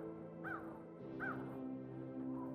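Crows caw in the woods: two clear, moderately distant caws about a second apart, with a fainter call trailing off in quiet outdoor ambience.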